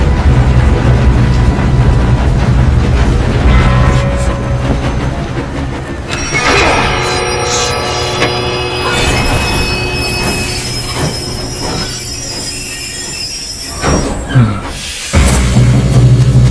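A train in Red Dead Redemption 2 grinds to a stop, its wheels squealing in long, high metallic screeches over heavy rumbling, then falling quiet before a final clunk and renewed rumble.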